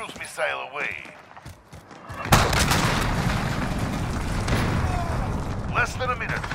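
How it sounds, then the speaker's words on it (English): A cruise missile strike in Call of Duty Modern Warfare multiplayer, on the Atlas Superstore map in Kill Confirmed mode, lands as a sudden loud blast and then a long rumbling roar of explosions and debris, with a voice speaking faintly before the impact. "Allied cruise missile away."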